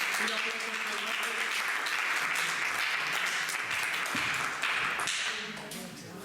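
An audience at a book presentation for a charity anthology claps in a dense, sustained round of applause that fades slightly at the end, with some voices mixed in beneath.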